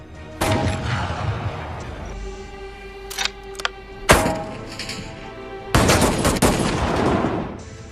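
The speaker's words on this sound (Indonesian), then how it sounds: "Tembakan uji coba meleset" Sniper rifle shots in a film crack out as several sharp, loud reports spread over a few seconds, each followed by a short decaying echo, with quieter mechanical clicks between them.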